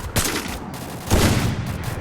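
Gunfire in the Free Fire battle royale game comes as two loud, close bursts of rapid shots, each one dense and booming, separated by a brief lull.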